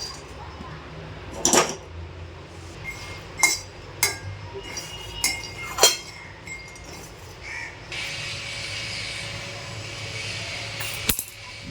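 A metal pan and utensils clink several times, sharp and close, while peanuts are set to roast dry in a home kitchen. A steady soft hiss follows, and a voice may be faintly present.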